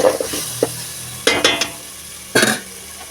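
Cooked rice being stirred in a pan with spice powder, several distinct scraping strokes with brief pauses between them and a soft sizzle underneath, close and fairly loud, no talking.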